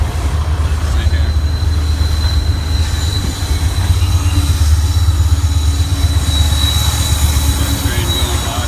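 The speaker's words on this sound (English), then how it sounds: "Train going by." A train rolls past near a trucking yard with a loud, steady low rumble of wheels and cars, a thin high squeal running over it, and a bit of wind.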